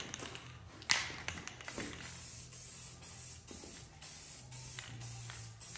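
Repeated bursts of Rust-Oleum metallic bright coat spray paint hiss from a can, applied to parts of a 30-year-old Wheel Horse garden tractor, each spray lasting about half a second with short pauses between, close and steady.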